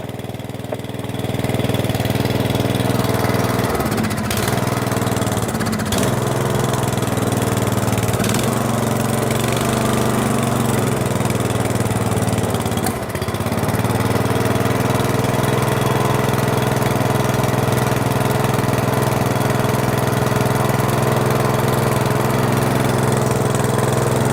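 Swisher pull-behind mower engine runs steadily at a constant loud drone, with a couple of brief dips and clicks and no talk.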